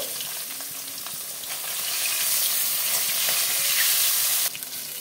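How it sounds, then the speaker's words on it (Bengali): Katla fish pieces frying in hot oil, a dense close sizzle that swells louder midway and drops slightly near the end, with no voices. "মাছগুলোকে আমি এপিট ওপিট করে লাল করে ভেজে নেব"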